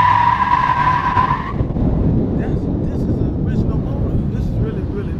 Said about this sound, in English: You can damn near burn rubber from a standstill position.